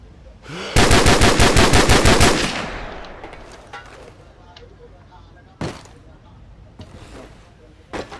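Rapid automatic gunfire in Call of Duty 4: Modern Warfare, a loud close burst of about a dozen fast shots lasting under two seconds, fading into echo, followed by a couple of isolated sharp shots later.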